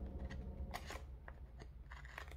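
Scissors trimming planner sticker paper, giving a few quiet, crisp snips and paper rustles close by over a low background hum.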